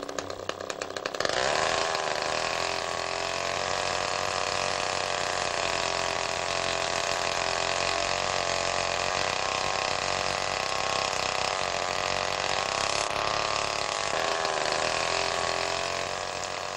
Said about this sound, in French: Le motocorde est construit à partir d'une tronçonneuse bricolée.